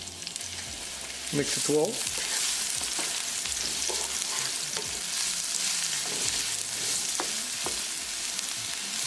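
Onion fries in hot olive oil with cumin seeds, a steady loud sizzle under stirring, and a voice speaks briefly early on.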